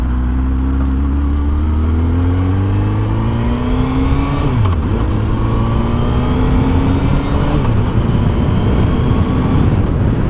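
A 2008 second-generation Suzuki Hayabusa motorcycle engine revs loudly and up close, its pitch rising and falling through several throttle blips in a continuous roar with no talk.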